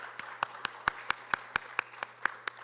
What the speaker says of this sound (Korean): 환영의 박수로 한번